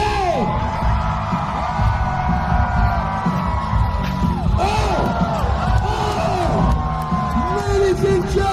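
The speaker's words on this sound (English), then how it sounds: "And the crowd goes crazy!" A crowd at a jousting tournament cheers loudly and continuously, with whoops, yells and shrill shouts layered over a dense roar, the excitement sustained across the whole stretch.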